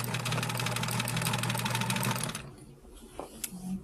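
A sewing machine runs continuously, stitching a quilt block seam with a fast, even mechanical whir, then stops abruptly and leaves a quieter room with a couple of small clicks.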